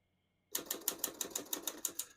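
A 1954 Olivetti Lettera 22 portable typewriter typing after a silent start, about a dozen crisp, evenly spaced key strikes in a steady rhythm, close and clear.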